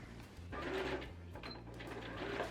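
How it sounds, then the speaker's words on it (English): An overlocker stitches fabric with a fast, steady mechanical whirr, close and fairly quiet, broken briefly near the midpoint before running on without pause. "I'm going to overlock everything and then start to join it all together"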